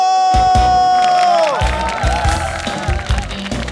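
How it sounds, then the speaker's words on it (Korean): A concert audience at a performance breaks into applause and cheering as a sustained musical tone fades, with loud, dense clapping and crowd noise filling the space. "여러분 박수."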